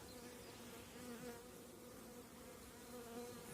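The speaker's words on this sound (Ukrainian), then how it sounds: "От бджоли йде вже в два шари її тут, одна на одному" Dense honeybees massed two layers deep on the outer frame of a strong colony in spring, a steady close buzzing hum that fills the whole stretch with no voices over it.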